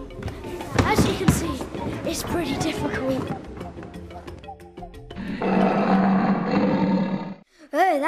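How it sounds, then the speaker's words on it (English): A lion and a tiger roar in a stretch of wildlife footage, deep rumbling calls layered with a voice talking, then a sustained roaring passage toward the end. "Lion and tiger."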